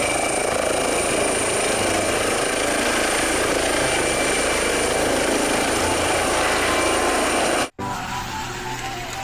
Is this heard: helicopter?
yes